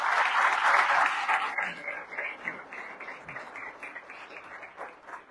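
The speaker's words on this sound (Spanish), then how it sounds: "Fuerte el aplauso." An audience at an award ceremony for athletes claps loudly and steadily, the applause peaking early and then thinning to scattered, softer clapping over several seconds.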